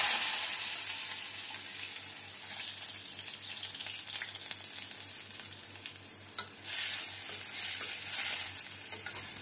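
Chopped onions fry in hot oil with popped mustard seeds while a drumstick masala is being made, a steady, moderately quiet crackling sizzle with faint stirring scrapes near the end.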